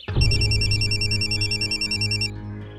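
A phone rings with a bright, warbling electronic trill, repeating steadily for a couple of seconds over a low hum before cutting off.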